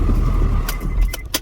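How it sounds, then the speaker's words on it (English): A car engine shuts down during air-conditioning compressor troubleshooting, its steady low rumble fading out. Keys then jingle in a few short, close bursts near the end. "let me shut the car down"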